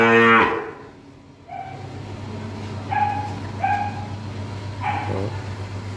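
A cow moos at a Vietnamese cattle sale, several short lowing calls spaced through the clip, close and fairly loud over a steady low hum, with one louder burst at the start.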